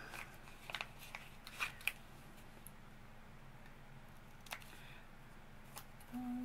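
Scissors snip through a small paper craft tag in a few quick, quiet cuts near the start, followed by faint handling rustles and light taps in a calm room.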